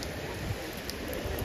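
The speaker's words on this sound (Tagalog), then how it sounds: "Lakas po ng ulan." Steady heavy rain in Vatican City hissing and pattering across surfaces, a dense continuous wash with no voices.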